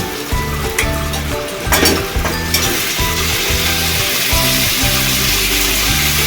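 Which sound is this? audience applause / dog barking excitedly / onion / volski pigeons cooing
onion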